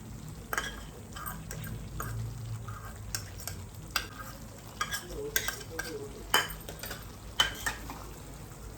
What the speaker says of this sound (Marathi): आपण चांगलं एकजीव परतून घेऊया